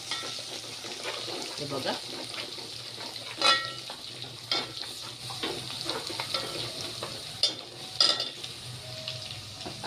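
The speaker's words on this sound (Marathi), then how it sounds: "आता हे अद्रक लसूण आपलं थोडं होत आलेलं आहे," Ginger and garlic frying in a pan while being stirred, a continuous soft sizzle with scraping spoon strokes and occasional clinks, close by, with brief talk over it.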